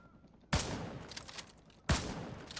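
Spas-12 shotgun fired twice in Call of Duty: Modern Warfare 2 Campaign Remastered, each a loud, sharp blast with a booming tail, about a second and a half apart over faint background.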